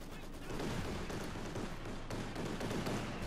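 A strafing run in Company of Heroes 2, Wehrmacht against Soviet forces, fills the scene with a dense, continuous barrage of rapid gunfire. The battlefield noise stays loud and steady from start to finish, with no pauses between the shots.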